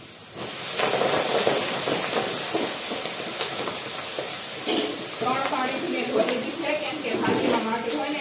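Fenugreek greens go into a hot pan with turmeric for a pigeon-pea and fenugreek curry, raising a steady close sizzle and hiss with scraping stir strokes, while a voice talks over it.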